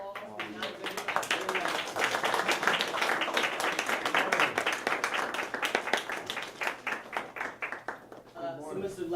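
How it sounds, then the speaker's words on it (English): A small group of students in a high school setting claps in distinct, sparse individual hits that form uneven applause, tapering off toward the end as a voice begins speaking. "everybody, if you please give a round of applause"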